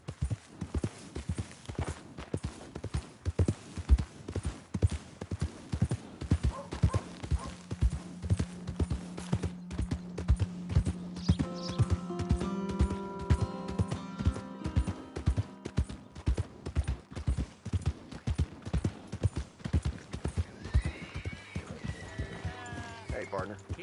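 Horse hooves clip-clop in a steady, even rhythm throughout a PS4 game, with short spoken lines and tonal game sounds layered over the hoofbeats.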